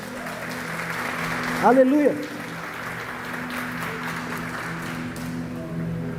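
Steady crowd applause at a church service fills the whole stretch, with one voice briefly shouting out over it.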